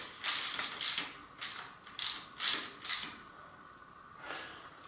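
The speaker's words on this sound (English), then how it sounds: "go under here and unscrew these screws." Screws being backed out of an RST 191 CS bicycle suspension fork give about six quick bright metallic clicks in a loose rhythm, close and fairly quiet, followed by a softer rattle.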